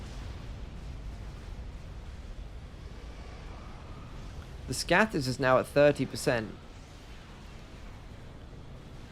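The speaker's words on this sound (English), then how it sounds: "It's going to be another explosion here. And another chain reaction." A chain of explosions in the Supreme Commander strategy game, a cluster of several sharp, loud booming blasts in quick succession, heard over a low rumbling background after a narrator's voice.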